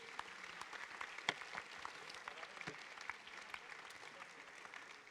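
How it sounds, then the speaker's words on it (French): Audience applause at a French regional development event, a steady mass of clapping filling the hall from start to finish, dense and sustained with no voices over it. "Tonnerre d'applaudissements, mesdames et messieurs."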